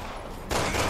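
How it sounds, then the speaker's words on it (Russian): Gunfire in the video game Resident Evil 6 erupts as a sudden loud burst of shots partway through a brief moment of low background noise. "Хороший выстрел, Пирс."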